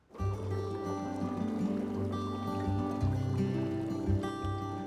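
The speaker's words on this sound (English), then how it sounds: "now we're going to fill up the canning pot with hot water" Hot water pouring into a canning pot for water bath canning: a steady, rushing fill with a rising tonal ring as the pot fills, continuous and close, with no talking.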